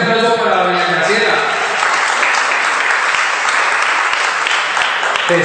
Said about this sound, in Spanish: Un fuerte aplauso para doña Graciela.